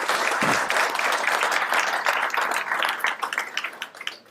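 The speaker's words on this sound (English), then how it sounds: "let's give them a big round of applause." A crowd claps loudly at a press conference for an economic development announcement, a thick burst of applause that stays strong and then thins toward the end.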